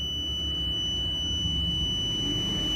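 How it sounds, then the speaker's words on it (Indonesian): A distance sensor buzzer on a project with an LED indicator sounds as a steady, continuous high-pitched tone, held unchanged throughout over a low background hum, with no talk. "buzzer tetap menyala sehingga pengendara dapat lebih aware ya"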